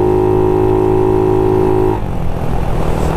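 A GY6 171cc fuel-injected engine in a Honda Ruckus runs steadily with a loud, close buzzing drone, then the tone drops and roughens as the revs change after about two seconds.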